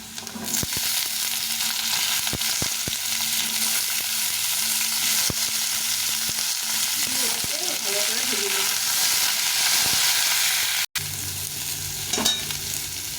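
Potatoes fry in a pan with a constant loud sizzle, punctuated by repeated scraping and stirring knocks of a spatula, with a brief gap near the end.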